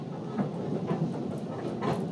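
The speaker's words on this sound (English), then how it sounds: "New York City's getting some new subway cars." A New York City subway train running, a steady rumbling rattle with faint rhythmic clicks of the cars over the track, continuous and fairly close throughout, with no talk.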